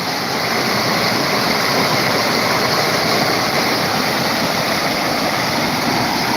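A stream-fed waterfall flowing near a village, a steady loud rush of falling water that stays constant throughout with no other sounds.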